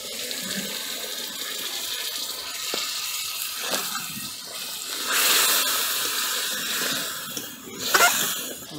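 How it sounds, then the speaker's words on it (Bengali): Water from a bowl poured into a cooking spice mixture for aubergine with poppy seed paste, a steady splashing pour with louder surges near the middle and end, alone without talk. "এবারে আমি 1 বাটির মতন জল দিয়ে দেব"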